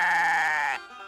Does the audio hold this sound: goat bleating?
yes